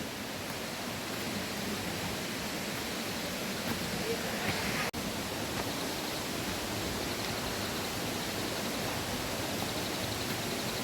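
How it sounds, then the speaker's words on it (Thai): Sapan waterfall in Thailand heard from the steep trail about fifty metres below it: a steady, broad rushing roar that stays even throughout, with a single sharp click midway. "ได้ยินเสียงน้ำตกแล้ว แต่ยังไม่ถึง"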